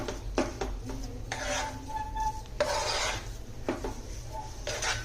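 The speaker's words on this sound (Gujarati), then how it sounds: "તો હવે એકદમ સરસ ચાસણી મિક્સ કરી દઈશું" Sugar syrup being stirred into cooked semolina for a ginger sweet (adu pak), with repeated scraping and rubbing strokes of a spoon against a metal pan, close and steady, a few louder sweeps in between.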